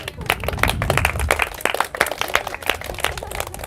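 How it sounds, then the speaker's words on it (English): Students in a Spanish lesson give a round of applause, with scattered individual claps quickly thinning into a few sharp, separate hand claps. "Round of applause"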